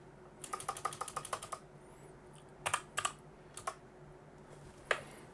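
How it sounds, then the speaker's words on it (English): Typing on a computer keyboard into a BIOS search box: a quick run of about a dozen key clicks, a pause, then a few scattered keystrokes, close and clear against a quiet room hum. "Click on search and then type in virt, as in virtual."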